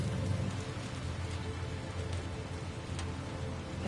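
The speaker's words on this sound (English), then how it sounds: "Is that just normal rain?" Steady rain falls in the video game Death Stranding 2, an even, dense hiss of drops with a low rumbling undertone that stays constant throughout, with no voices.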